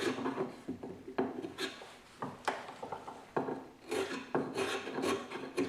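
A sharp hand plane shaving end grain with a skewed blade, giving repeated rasping, scraping strokes at close range, each pass a brief gritty rush separated by short pauses.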